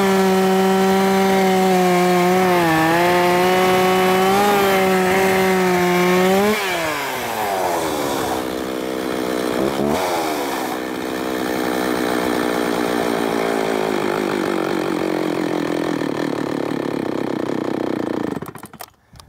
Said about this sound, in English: one more cut